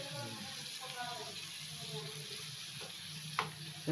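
Prawns fry in a hot pan with a steady close sizzle, and a few faint clinks come near the end. No one speaks.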